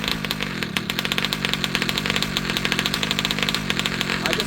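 A 71cc ALX gas engine idles with its throttle opened slightly, a close, steady, rapid pulsing chug with a buzzy rattle that continues unbroken throughout.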